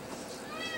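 Charlie, a neutered part Maine Coon cat, gives a brief, short meow against a noisy, hissy background.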